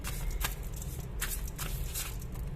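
Tarot cards being shuffled and drawn from the deck: several quick papery riffles and flicks close by over a steady low room rumble, with no voices.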